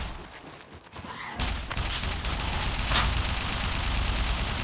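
Gunfire in the survival video game SCUM, starting after a quieter opening as a dense, sustained burst of rattling shots at high level that continues to the end, with no talk over it.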